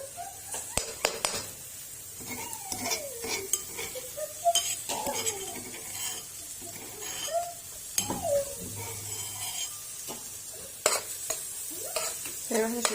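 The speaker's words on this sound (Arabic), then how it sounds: "زي ما احنا شايفين كده يتشوحوا كده مع البصلايه تشويحه بسيطه" About four crushed garlic cloves sauté with onions in a pan, a soft steady sizzle punctuated by close scraping and clinking of a spoon stirring, no voice.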